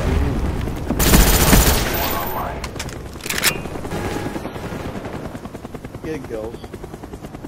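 Chopper gunner helicopter firing in Call of Duty: Black Ops, with rotor drone and repeated bursts of gunfire and explosions throughout, loud and sustained under a voice talking.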